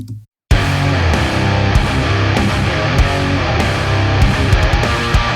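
Loud, dense heavy metal band with distorted guitars and a thick EQ'd bass line, driving drums hitting steadily after a brief silent gap at the start.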